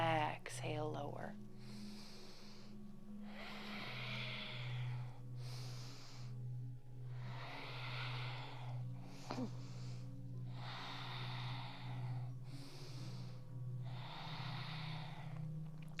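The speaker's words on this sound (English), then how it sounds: "Just breathe that tension out of the body." Slow, deliberate exhalations in a yoga class, several long breaths out at a steady rhythm, close and soft over a low constant hum, with a person talking in between.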